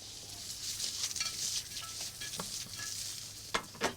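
Carrots cooking in a pan for a pork and chicken-liver pie: a steady sizzle with scraping stirring strokes close by, then two sharp clinks of utensil against pan at the end.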